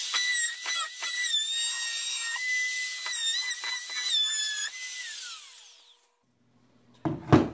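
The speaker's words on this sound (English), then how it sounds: "So I do that with my handy dandy little Bosch Colt router." A small Bosch Colt router chamfers the edge of a wooden beehive pallet, screaming at a high pitch close by. The whine stutters through several passes, then winds down to silence, followed by a brief clunk.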